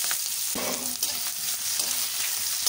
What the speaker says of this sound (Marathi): त्याच्यात आपण मोहरी टाकणार आहोत। त्यानंतर आपण मिरची टाकणार आहोत, कांदा टाकणार आहोत